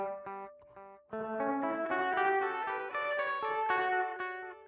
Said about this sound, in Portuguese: eu mexo no feedback do delay aqui